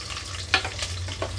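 Onions and green chillies frying on a low flame for a coconut-milk mushroom biryani, a soft steady sizzle with a brief clink of stirring partway through, close and alone without talk.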